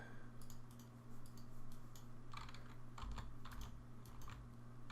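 Shortcut keys pressed on a computer keyboard: irregular clusters of quiet clicky keystrokes over a steady low electrical hum, with no talking.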